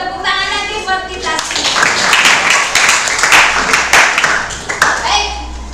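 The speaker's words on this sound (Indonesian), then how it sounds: "Ya, tepuk tangan lagi buat kita." A class of Indonesian junior high school students claps together in a classroom, a loud dense burst of many hands that builds after a brief spoken moment and then tapers as talking resumes at the end.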